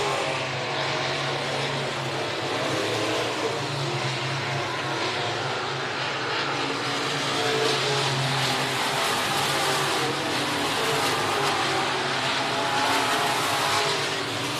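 A pack of 410 sprint cars roars around a big half-mile track at an IRA Outlaw Sprint Car Series race, a dense steady engine drone with no break.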